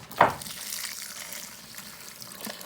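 Foundry mix being stirred with a mixing stick for a simple backyard foundry: a short wet scrape at the start, then a steady soft sloshing, gritty churn at close range.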